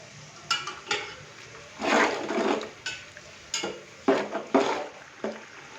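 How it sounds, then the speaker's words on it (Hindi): Spices with a little water being stirred and fried in a pan for chicken keema pulao, with irregular scraping and clattering of a spoon against metal over a soft sizzle. "अभी मैं इसको अच्छे से मिक्स करूंगा और सारे मसाले को अच्छे से भून लूंगा"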